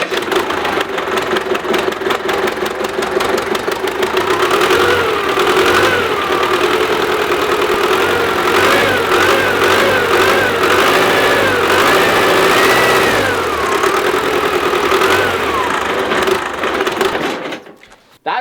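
An old engine that sat unused for 30 years runs loudly and steadily after starting, a continuous close mechanical drone with a knocking, sewing-machine-like clatter and a rising whine in the middle, then cuts off abruptly at the end.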